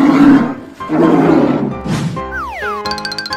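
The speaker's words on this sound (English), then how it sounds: "Bear." A bear roars in a video game of giant animal transformations, a rough growling burst followed by cartoonish boing-like sliding tones and bright chiming effects, all fairly loud and with no talking.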